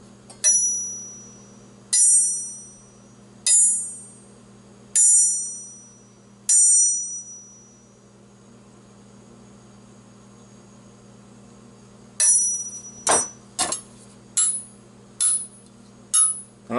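Wusthof German steel knife struck and drawn from a wood block, sharp bright metallic rings repeating about every one and a half seconds, each decaying slowly, then a quicker run of clinks and rings near the end.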